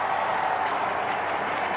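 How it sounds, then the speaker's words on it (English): A vast crowd cheers wildly and applauds at the announcement of the new pope, Leo XIV, forming a steady, continuous roar heard from a distance. "crowd is going absolutely wild over this"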